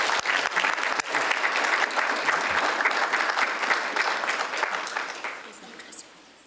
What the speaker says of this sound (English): About another round of applause for Caroline